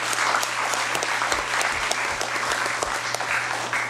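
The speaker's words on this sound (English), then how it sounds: "can we give them a collective round of applause and welcome here" Audience in a congressional session chamber gives a visiting school group a collective round of applause, a dense, even clapping that holds steady from start to finish with no talk over it.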